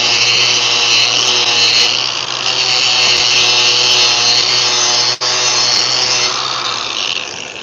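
A steady, loud power sander works a piece of wood with 120 grit sandpaper, a continuous abrasive whir with a brief dip near the end.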